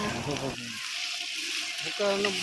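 Yogurt going into a pan of sautéed biryani masala base, with a steady hiss of frying under speech at the start and end, quieter sizzling in between.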